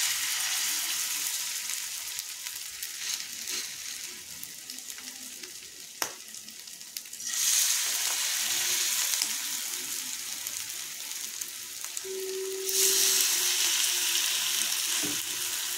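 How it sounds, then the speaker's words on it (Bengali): Cauliflower pitha batter frying in hot white oil in a frying pan, a steady loud sizzle that swells stronger in bursts as more spoonfuls of batter drop in. "তো এইভাবে সমস্ত পিঠেগুলোকে আমি ভাজতে দিয়ে দেবো তেলে।"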